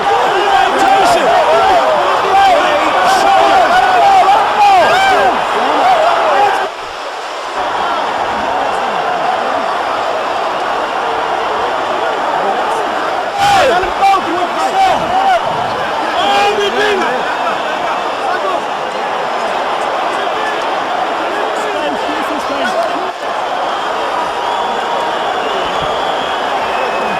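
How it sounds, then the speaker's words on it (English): Boxing arena crowd at the McBride–Tyson fight in 2005, just after Tyson quits on his stool before the seventh round: a broad, steady murmur of many voices filling the hall, with scattered shouts and a loud commentator talking over it. "A stunned crowd"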